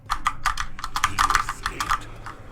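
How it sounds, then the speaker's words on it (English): Rapid, loud clatter of a computer keyboard being typed on, a steady burst of sharp keystrokes close to the mic for a couple of seconds with no talking. "My keyboard is very loud"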